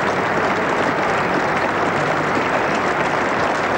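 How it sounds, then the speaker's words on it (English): Dense, steady applause from a cricket crowd at Lord's during an England v India Test match in 1982, rising after a near catch in the gully, a broad continuous wash of clapping heard at a distance without a break. "And you can hear the round of applause."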